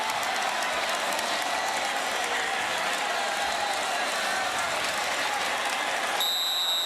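A college football stadium crowd roars and applauds after a 54-yard touchdown run in a USC versus Boston College game, a loud, sustained wall of cheering that holds steady throughout.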